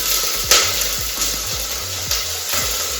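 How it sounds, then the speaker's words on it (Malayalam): Onion and green chilli sizzle steadily in hot oil, a continuous close crackle broken by a few louder pops and the clink of stirring, with no talk over it. "ഉള്ളി 2 പച്ചമുളക്"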